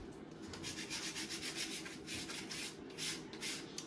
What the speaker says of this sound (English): Now you're gonna sand your blocks.